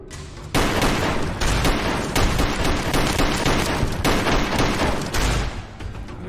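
Dense, rapid bursts of gunfire from a combat shotgun in the Fallout: New Vegas video game, loud and close, with repeated blasts in quick succession and no pauses.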